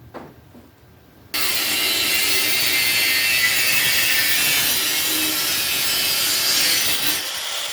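A saw cuts through a car wheel at its seam, beginning after a quiet second and then rasping loudly and continuously up close, easing slightly just before the end.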